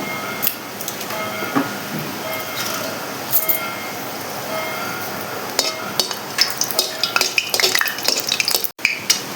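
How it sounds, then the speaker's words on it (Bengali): Whole dried red chillies tempering in mustard oil while being stirred, with a metal spoon scraping and clinking against the pan in an irregular run of bright taps that grows busier toward the end. "এখন এর মধ্যে আমি গোটা শুকনো লঙ্কা দিয়ে দেবো ফোড়নে"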